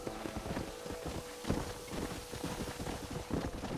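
Horse hooves clip-clopping in the Red Dead Redemption video game, a steady uneven patter of several hoofbeats on the ground, moderately close and fairly loud, with a low background hum.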